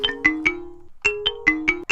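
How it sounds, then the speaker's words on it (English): A phone ringtone signals an incoming call: a short melodic beeping phrase plays, pauses briefly, then repeats, clear and close with no voices. "You got a phone call."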